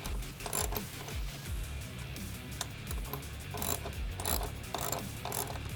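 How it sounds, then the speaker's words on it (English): A socket wrench ratchets close by while a bolt is tightened on the halo of a Bestop Trektop Pro soft top for a Jeep JK, giving dense, continuous rapid clicking with a few slightly stronger pulls and no talk. "secure using a 4mm Allen again, as well as a 10mm socket or wrench."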